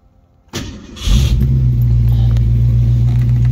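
A 1966 Ford Mustang convertible with Holley fuel injection starting up, a brief cranking followed by the engine catching and settling into a loud, steady, close idle.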